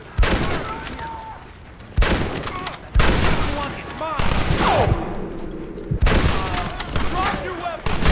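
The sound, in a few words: gunfire from the video game Red Dead Redemption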